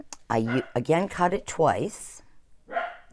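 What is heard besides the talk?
dog barking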